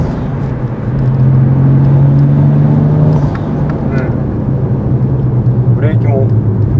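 A Toyota Chaser JZX100 with a 1JZ-GTE engine and GP Sports muffler hums along at steady cruising revs, giving a smooth, droning exhaust note with a rise and fall, while people chat over it inside the car.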